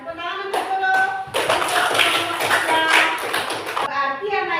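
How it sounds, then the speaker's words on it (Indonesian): A classroom audience of children claps together in a burst lasting about three seconds, with voices heard just before and after. "Iya, tepuk tangan untuk dulu."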